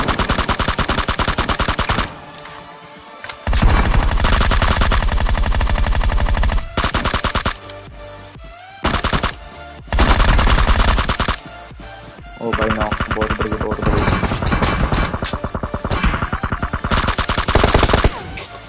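Automatic gunfire in PUBG Mobile rings out in long, dense bursts of rapid shots, loud and close, broken by a few short pauses.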